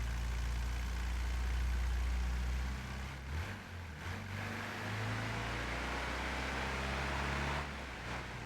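A Volkswagen Brasilia with a swing-axle rear, idling in the BeamNG.drive game: a steady low engine rumble that dips briefly around the middle, then settles back into a constant idle drone with no voices.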